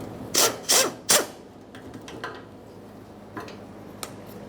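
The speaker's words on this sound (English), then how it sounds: "Use a 10mm to loosen up this clamp" A 10mm wrench loosens the fuel filler hose clamp on a 1994-1997 Honda Accord, heard as three quick, sharp ratcheting bursts close by, followed by a few fainter clicks and taps.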